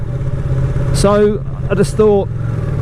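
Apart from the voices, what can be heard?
Ducati Panigale 959 Corse motorcycle engine while riding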